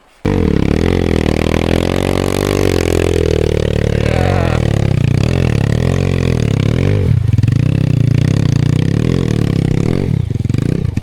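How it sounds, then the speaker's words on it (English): Enduro motorcycle engine running loud and close, a continuous throbbing idle with pitch rising and falling as the bike is pushed, with a brief dip near the end; a short spoken word is heard. "Keep the engine running and just push it."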